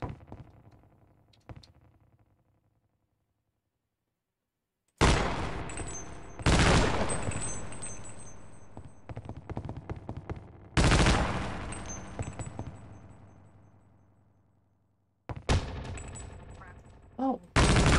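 Bursts of rapid automatic gunfire in a Half-Life mod, loud and close, coming in several long volleys separated by short pauses, with a quiet stretch before the first burst.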